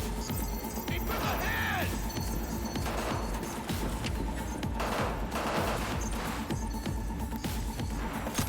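Sustained gunfire from a firefight in the video game Cyberpunk 2077: dense, rapid bursts of shots rattling continuously under a busy game soundscape, loud and close throughout.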